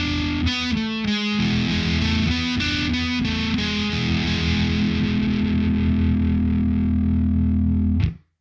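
Distorted electric guitar soloing over a full band in a song, Mixolydian-flavored lines with sustained notes and effects, loud and continuous before cutting off abruptly at the end.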